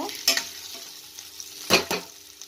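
Potato curry with a little turmeric frying in a pan, soft sizzling broken by two bursts of a spoon scraping and stirring through the mixture, close and alone.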